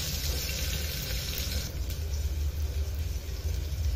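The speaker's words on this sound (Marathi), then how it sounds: "त्यानंतर मी हे कांदा टाकते. कांदा असा चांगला परतून घ्यायचा." Onion sautéing in a pan after garlic paste has gone in, giving a steady, even sizzle with a low rumble beneath, close and continuous with no talking.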